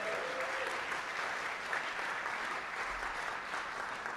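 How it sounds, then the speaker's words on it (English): Audience applause for prize winners at an award ceremony, a steady wash of clapping from a crowd held at even loudness throughout. "give a big round of applause"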